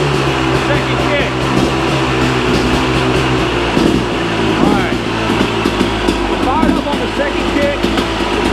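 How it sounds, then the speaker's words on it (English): A KTM 250 two-stroke motorcycle engine, recently kick-started with the choke being cut down, idles steadily and close by with a constant buzzing drone throughout, while someone talks over it. "Second kick, we'll cut the choke down, smooth, let it idle a little bit."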